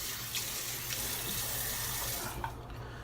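Water runs steadily from a tap for rinsing while shaving, a close, continuous splashing stream that shifts slightly near the end.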